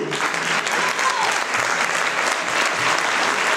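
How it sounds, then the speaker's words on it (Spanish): Gala audience giving loud, sustained applause to welcome the flamenco group Andalusí as the curtain opens, a thick steady roar of clapping close by, with faint crowd noise underneath. "recibir con un fortísimo aplauso al grupo Andalusí"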